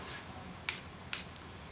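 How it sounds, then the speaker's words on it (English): Two quick, quiet spritzes from a spray bottle land on a sponge finger dauber during makeup preparation, each a brief hiss against faint room noise. "I'm going to give that a little spray."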